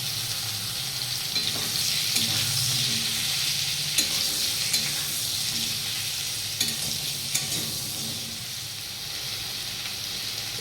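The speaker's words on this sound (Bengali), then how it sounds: "এবার তেলের মধ্যেই আলু আর ঝিঙেগুলিকে দিয়ে ভাজা হবে" Potatoes and ridge gourd sizzle in hot oil used earlier for frying fish, a continuous loud hiss and crackle with a few clinks of stirring, no voices.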